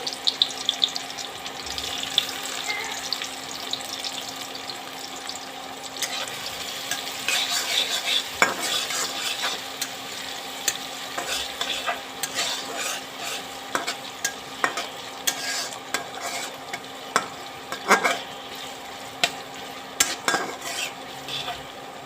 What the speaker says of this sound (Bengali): তেলটা গরম হয়ে গেছে, এখন পেঁয়াজ কুচি দিয়ে দিব।